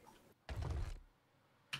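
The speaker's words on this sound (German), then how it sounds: "Machen wir hier die Tür auf" Door swung open in the survival game 7 Days to Die, a short muffled thunk of wood moving, followed by quiet and then a second brief knock, close and fairly faint.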